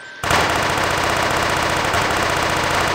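Rapid full-auto bursts from an assault rifle fired from the hip in the blocky shooter Guncraft, a Halo-style weapon with no iron sights, starting abruptly after a brief quiet and hammering on loudly and continuously for the rest of the stretch.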